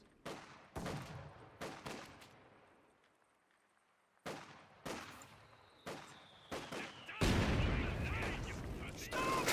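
MG-42 machine guns and battle fire in Company of Heroes 2: repeated sharp bursts and heavy booming blasts with decaying tails, close and loud, ending in a sustained roar of gunfire.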